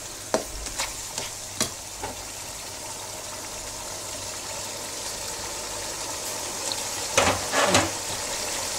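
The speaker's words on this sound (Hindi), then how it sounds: "दही को साथ साथ चलाते रहें ताकि वो इसमें गुठलियाँ ना बने।" Yogurt is stirred into masala frying in a pan over low heat, with a steady soft sizzle and several sharp spoon scrapes and taps against the pan, clustered early and again near the end.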